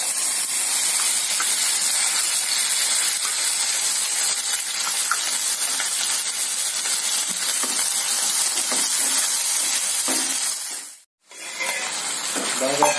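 Ground masala paste for stuffed brinjal curry frying in hot oil, giving a loud, continuous broadband sizzle and hiss that drops out briefly for a moment near the end before resuming.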